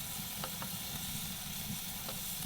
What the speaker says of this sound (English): I love that sizzle dance